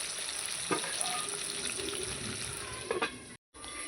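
Vegetables sizzle in a salted frying pan: a steady, close hiss of frying with a couple of soft stirring knocks and a brief cut-out near the end, with no talk.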